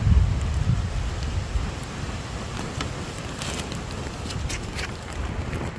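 Steady broadband roar of strong wind buffeting outdoors, heavier at the start, with occasional crackles and rustles throughout.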